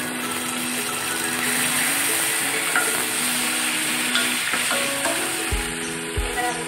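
Onion with garlic-ginger paste fries in a pan for masala egg, giving a loud, steady sizzle with occasional stirring scrapes and a couple of low knocks near the end, with no voices.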